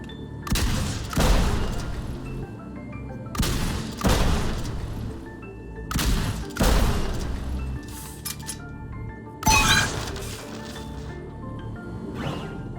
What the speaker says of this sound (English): if you grab yourself a weapon and shoot the objects in the order that I do, this will happen